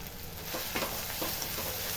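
Tomatoes sautéing with salt in a pan for a fish curry, giving a steady low sizzle with a few soft stirring scrapes and clinks, close and continuous with no talking.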